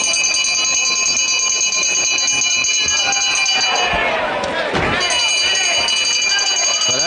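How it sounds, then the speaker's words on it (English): A wrestling ring bell at a televised World of Sport bout rings loud and sustained throughout, over a noisy arena crowd and commentary. "Kellett hasn't heard the bell."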